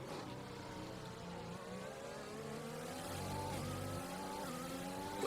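Formula 1 car in the F1 2021 racing game at the French Grand Prix, its engine note rising steadily under acceleration out of a corner, a continuous high whine heard alone.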